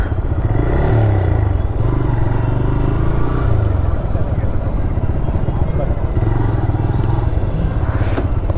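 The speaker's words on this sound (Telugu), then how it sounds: "బైక్ ఇక్కడ పార్క్ చేసేసి చూద్దాం ఒకసారి." A motorcycle engine rumbles loudly and steadily as the bike is ridden up and parked near the Telangana Secretariat in Hyderabad. Voices can be heard over the engine noise.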